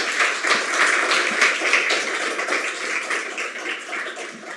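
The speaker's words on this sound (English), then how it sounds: "Let's give Kayla a round of applause." An audience gives steady applause after a science talk about bees, a dense wash of clapping that holds at moderate level and fades slightly toward the end.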